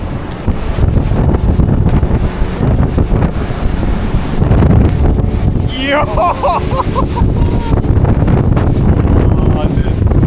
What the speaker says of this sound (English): No, that's the ocean.